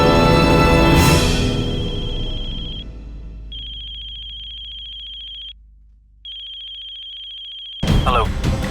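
On an outgoing call, a phone's ringback tone beeps in even repeated pulses, heard alone after a musical sting fades, then a brief gap and more pulses before another burst of music.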